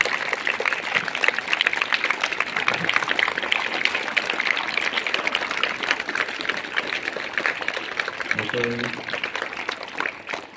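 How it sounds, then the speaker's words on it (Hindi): Audience applause at a school gathering, a sustained wash of many hands clapping, steady and fairly loud for about ten seconds, with a brief voice near the end. "सबके लिए जोरदार तालियां करें"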